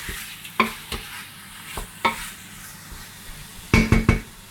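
Food sizzles and fries quietly in a pan while a utensil scrapes and stirs it in several distinct bursts, the last few strokes quicker and louder, with no talking.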